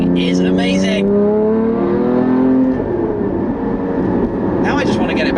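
Porsche 981 Cayman GT4 in Martini livery with an Innotech exhaust, a loud nearby engine drone rising and holding through steady revs, then settling lower, with talk over the start and end.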